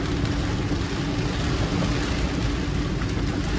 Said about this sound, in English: it started raining crazy